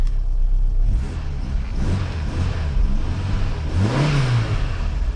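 A Mk3 Vauxhall Cavalier 2.0 petrol engine cranks and catches, then revs up and down in several swells, loud and close with no talking.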